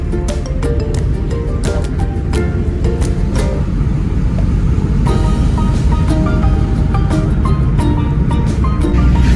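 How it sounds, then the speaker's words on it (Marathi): An automatic car cruising at about 80 km/h in fifth gear on an open, traffic-free road, giving a loud steady roar of road and wind noise with faint rattles and clicks, no voices. "80च्या स्पीडने चालू आहे आपली गाडी"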